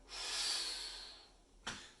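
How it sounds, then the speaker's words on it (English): Close nasal breathing during a diaphragmatic activation exercise against tension: one long, airy inhale through the nose, then a short, sharp nasal exhale near the end, with no talking. "we're then going to breathe again through the nose against the tension."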